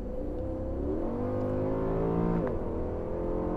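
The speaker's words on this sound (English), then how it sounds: "on the gas down the straight" A Mercedes-AMG E63 engine, heard from inside the car, revs steadily, its pitch climbing as it accelerates down a straight, with a brief gear-change dip before rising again; close and continuous.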